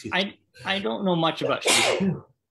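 One close, forceful sneeze breaks in among stretches of conversational talk from nearby voices.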